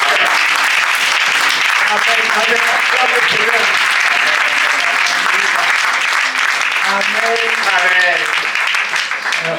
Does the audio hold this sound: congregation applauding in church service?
yes